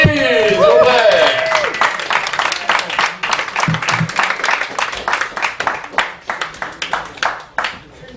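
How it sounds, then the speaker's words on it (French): Audience applause at a live French spoken-word stage show, a dense wash of clapping that starts over music and a voice, then thins into scattered, uneven claps toward the end. "On l'applaudit! S'il vous plaît!"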